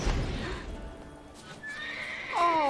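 A Skellige horse in The Witcher 3 lets out a clear, near whinny with a rising-falling tremolo toward the end, following hoof clatter and ambient game sound.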